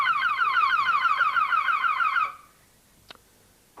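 The alarm sounder on a 1996 Rover 800 with a KV6 engine wails in a fast, warbling electronic pulse, loud and close, then cuts off abruptly, followed by a faint click.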